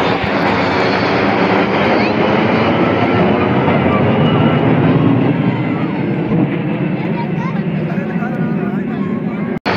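Aircraft fly over the 2023 Prayagraj airshow, a loud, continuous engine roar that fills the whole stretch and swells slightly before ending abruptly.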